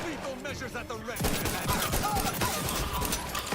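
Shooter video game combat, with rapid gunfire and grenade blasts swelling into a dense, loud volley after a quieter opening; faint voices may sit under the noise.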